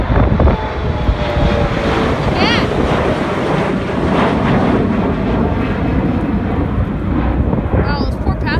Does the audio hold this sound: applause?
no